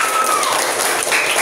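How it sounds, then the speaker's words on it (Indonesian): A classroom of students applauds a group after its kite-making activity, a brief burst of dense clapping with a faint tone running underneath. "Untuk kelompok 5 kita beri tepuk tangan dulu yang meriah."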